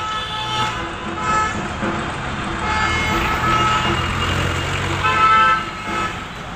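Busy road traffic at school time, with a steady loud engine rumble and several car horns honking and tooting over it in short and longer blasts.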